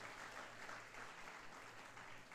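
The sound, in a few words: applause in a church service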